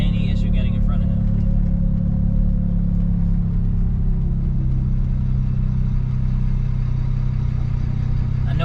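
A Suzuki Jimny JA11's turbocharged 660 cc engine pulls hard on a highway, heard from inside the cabin as a loud, continuous low drone with a slowly shifting pitch and road roar beneath it.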